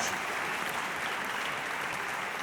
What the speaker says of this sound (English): can we give a round of applause because the brass came into their own there